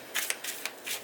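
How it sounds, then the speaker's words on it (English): Tarot cards being shuffled by hand in a quick shuffle, with several short riffling bursts in close succession, near and fairly quiet, and no talking. "I'm going to do a quick shuffle."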